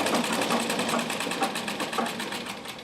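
A Royal Brother sewing machine running at close range, its rapid rhythmic needle clatter steady and continuous for a few seconds without talk.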